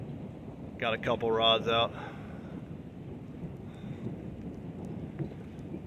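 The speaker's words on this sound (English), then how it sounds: "It's sprinkling now. We got a lot of thunder, lightning." Monsoon storm over the Snake River at Marsing, Idaho, with light rain sprinkling and a steady wash of rumbling thunder and wind, while someone talks briefly near the start.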